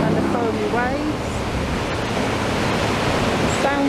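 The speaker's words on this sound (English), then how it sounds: "Let's have plenty of sea in this video, because everybody likes the sea and the foamy waves" Foamy sea waves wash onto the shore beside the promenade at Blackpool, a steady loud broadband roar of surf with wind buffeting the microphone, continuous throughout.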